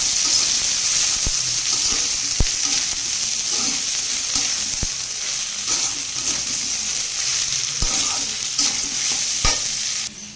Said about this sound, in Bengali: এবার এটাকে নেড়ে করে মিশিয়ে দেবেন